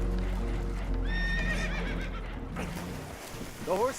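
Horses in Red Dead Redemption 2 give a clear whinny, then a second, shorter neigh near the end, over steady low rumble and hoof clatter.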